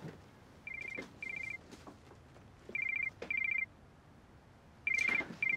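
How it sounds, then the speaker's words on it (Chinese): Electronic telephone ringtone trilling in three pairs of short bursts, clear and fairly close in a quiet home, followed by a soft pickup click. "接个电话。"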